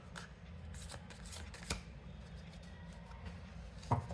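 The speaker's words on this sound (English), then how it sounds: "Let's do one last shuffle." Tarot cards being shuffled by hand, a steady papery riffling and flicking with a few sharper snaps, close and fairly quiet with no talk over it.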